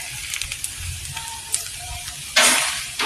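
Tuyo dried-fish fried rice stirred in a hot frying pan, a constant sizzle with light scraping strokes and then a sudden loud surge of hissing near the end.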